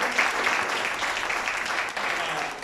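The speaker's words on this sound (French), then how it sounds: "Acclame Jésus" A church congregation applauds during a French-language sermon, a steady broad wash of clapping that holds at even loudness throughout, with faint voices mixed underneath.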